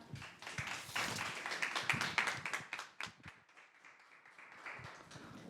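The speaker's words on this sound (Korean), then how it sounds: "여러분 따뜻한 박수로 맞아 주 주시기 바랍니다." A conference audience claps to welcome a speaker, the individual claps sharp and scattered, swelling in the first half and then thinning toward the end, fairly quiet overall.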